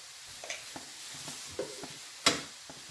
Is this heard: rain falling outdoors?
no